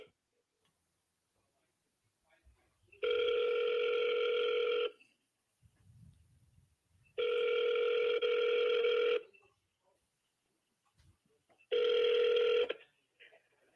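Telephone ringback tones after dialing a real estate seller's cell phone: three long, steady ring bursts separated by silent gaps, clear and close, with no talk over them.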